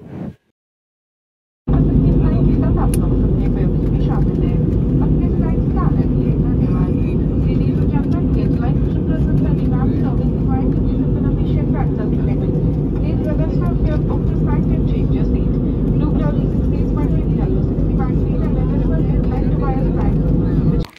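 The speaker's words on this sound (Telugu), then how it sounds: "సో మొత్తం సౌండ్ చూడండి ఎలా వస్తుంది, చూడండి అనౌన్స్మెంట్ చూడండి ఫ్లైట్లో ఎలా చెప్తున్నారో" A passenger airliner cabin on a Hyderabad-to-Goa flight hums with a loud, constant engine drone. An in-flight announcement voice and nearby talk sound over the drone after a brief quiet start.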